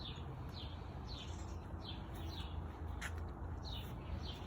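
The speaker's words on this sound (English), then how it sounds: "And you can hear those birds chirping again." Small birds chirp outdoors near a house driveway, repeated short bright tweets at an even pace over a faint steady background hum, moderately distant and fairly quiet.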